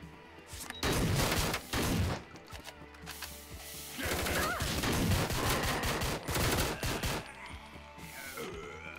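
Gunfire in Door Kickers: Action Squad, with dense repeated shots and bursts in uneven clusters, fairly loud, mixed with clattering and smashing effects.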